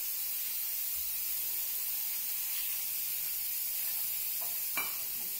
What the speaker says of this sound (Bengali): এবার কাঁঠালের বিচিগুলো আলুগুলো একসাথে নুন হলুদ দিয়ে ভেজে নেব